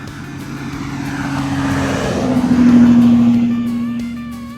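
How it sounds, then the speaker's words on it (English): Vehicle passes on the road, its engine swelling as it approaches and peaks close by, then fading as it moves away; no talk. "Traffic go by."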